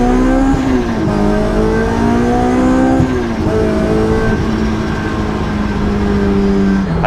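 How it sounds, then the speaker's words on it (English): A Honda S2000 fitted with a Kraftwerks supercharger revs during downshifts, its loud, close engine note rising and dipping with rev-matched blips, the supercharger whine running steadily throughout. "Downshifting, super easy. Rev matching is easy."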